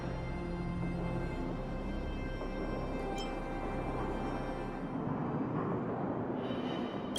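Eerie fragmentum monster noise from the game Honkai: Star Rail, a steady hiss-like wash of white noise with a faint low rumble, continuous and quiet, with a brief faint tone near the middle and no talking.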